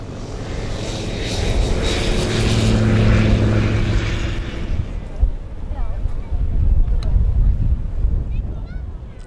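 Propeller trainer aircraft fly in group formation at an air show, a loud droning engine roar that builds and then fades as they pass, with wind buffeting and background noise.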